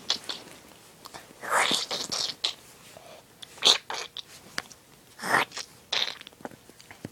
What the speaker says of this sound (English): I can hear him chewing.